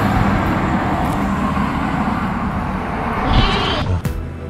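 Goats on a farm in Sarasota, Florida, bleating in a few short calls over a steady background hum, with a louder, nearer bleat toward the end; no one speaks.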